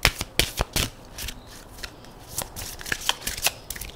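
A deck of oracle cards is shuffled for a reading, with quick papery riffles and taps in uneven bursts, close and fairly quiet, and no talking.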